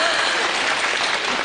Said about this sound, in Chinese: 觉得我好的请鼓掌